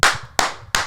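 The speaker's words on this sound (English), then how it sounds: "Let's do a little fucking clap." Three sharp hand claps, close and loud, evenly spaced about a third of a second apart, with no talking.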